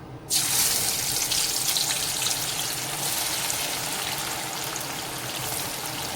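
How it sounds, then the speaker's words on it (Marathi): Chopped onions dropped into hot oil set off a sudden loud, even hiss that holds steady and fades only slightly, close by with no talking. "इथे मी तेल तापत ठेवलंय, छान तेल तापलं गेलंय. आता यात मी आपण चिरून घेतलेला सगळा कांदा ऍड करते"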